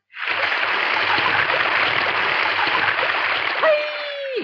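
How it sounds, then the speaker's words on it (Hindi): Waterfall rushing in a 1990s Hindi romantic film scene, a loud, steady broadband roar that fades in and holds, with a brief tonal sweep near the end. "क्या झरना है"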